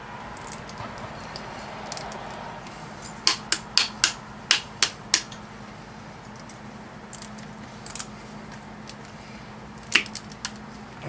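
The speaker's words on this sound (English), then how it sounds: "This copper comes out of this motor easily. Cut it on one side." Copper windings are cut from a wet/dry shop vac motor with a tool, giving a run of sharp snipping clicks spaced about half a second apart, then scattered single snaps, over faint background hum.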